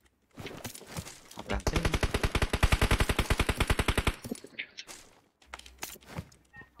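A video game machine gun fires a long, loud, rapid burst of evenly spaced shots, followed by a few scattered single shots, with a voice talking over the action.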